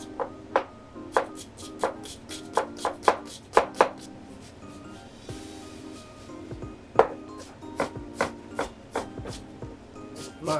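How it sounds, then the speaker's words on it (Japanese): Onions being minced with a knife on a cutting board for hamburg steak in a restaurant kitchen, crisp close chops in quick irregular bursts with short pauses between runs. "買ってみじん切りをやります"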